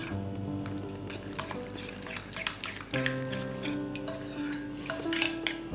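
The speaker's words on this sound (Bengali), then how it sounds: "ডালটা খুব ভালোভাবে সেদ্ধ হয়ে গেছে একটু ঠান্ডা করে নিয়ে আমি সুন্দর করে মেখে নেব পুলির জন্য" Boiled moong dal gets mashed in a bowl for puli pitha, with irregular clinks and scrapes of a metal utensil against the dish, close and moderately loud, over a steady tonal background.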